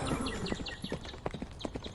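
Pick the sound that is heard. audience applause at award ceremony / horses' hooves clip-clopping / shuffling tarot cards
horses' hooves clip-clopping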